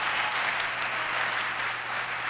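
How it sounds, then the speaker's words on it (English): A crowd at a city mayor's State of the City speech keeps clapping, a broad even patter of many hands that holds steady throughout, moderately loud, with no speech rising above it. "You clap for that."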